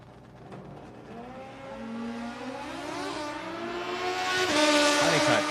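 Sportsman drag racing motorcycles launch and accelerate down the strip, a loud rising engine whine climbing in pitch through the gears and swelling toward the end, heard from trackside.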